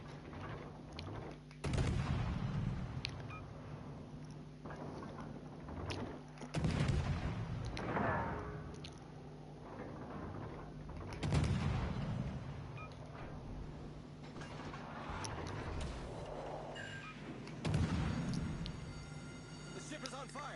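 Naval artillery salvos from warships in World of Warships, heavy booming shots recurring every few seconds at a moderate distance, with game sounds and someone talking over them throughout.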